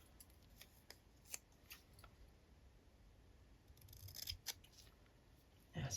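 Scissors snip through covering material for the replacement spine of an antique book cover, a series of close, quiet cuts with soft handling rustle between them.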